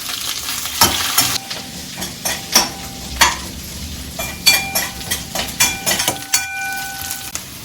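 Onions and green chillies frying in a pan with egg and carrot, a continuous sizzle broken by repeated sharp scrapes and clinks of a spatula stirring against the metal, close and loud with no talk.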